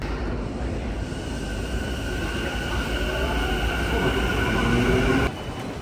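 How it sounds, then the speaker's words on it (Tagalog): Limited Express commuter train bound for Shibuya, Japan, heard from inside a carriage: steady low rumble and rolling wheel noise with faint whining tones, building slightly in loudness before an abrupt drop near the end. "Ang sasakyan natin is yung Limited Express going to Shibuya."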